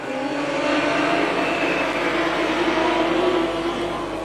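Modified sedan race cars roar through a feature race at Gympie Speedway, a loud, steady, close engine drone that holds for several seconds with no talk.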